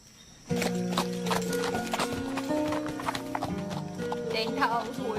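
Horse hooves clip-clopping at a walk, steady and close, mixed with a continuous music-like tonal bed and voices talking over it.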